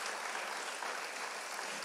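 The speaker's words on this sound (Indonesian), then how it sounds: "Tepuk tangan bagi Tuhan kita." A congregation claps during a Sunday church service, an even, hissing spread of many hands at a steady level, heard alone without any talking.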